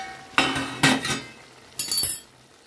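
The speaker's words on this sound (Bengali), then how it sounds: "ঢাকনাটা খুলে দেখবো" A metal lid comes off a pot of simmering Bengali mixed-vegetable ghonto, giving a few sharp clinks and clatters close by, spaced apart, with no voices.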